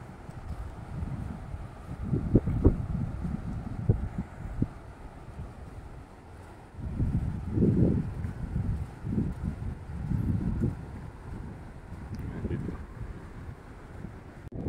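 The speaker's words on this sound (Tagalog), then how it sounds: "At napakalakas pa rin ng hangin." Strong wind on an island shore buffets the microphone in heavy low gusts that rise and fall, with a steady rushing background throughout.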